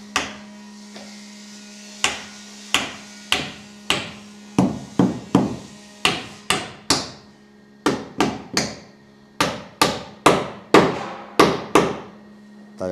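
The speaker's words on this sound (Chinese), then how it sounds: "木匠师傅钉这个钉子啊，都是斜着钉的" A carpenter driving nails at an angle into a wooden floor on the upper storey of a rural wooden house, with a long series of sharp, loud hammer blows in quick clusters, close and ringing slightly.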